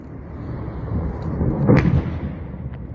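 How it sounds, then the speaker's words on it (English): A massive explosion at an oil refinery during wartime is heard from a distance as a deep, rumbling boom that swells, peaks with a sharp crack, then fades over a low, continuous roar. "There you go. Massive explosion."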